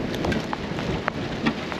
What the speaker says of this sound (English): That is some driving rain.